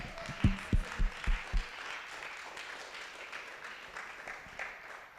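A church congregation applauds and cheers during a service, opening with a few sharp low claps before settling into a steady, moderately loud wash of clapping and crowd noise.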